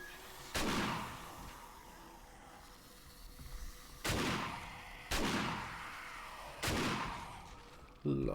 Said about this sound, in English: Love this shotgun. Fucking destroys everything.